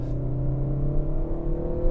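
A 2022 Peugeot 3008 mid-size SUV engine pulls under acceleration, a loud, steady close-up drone with a rising hum and no voices over it.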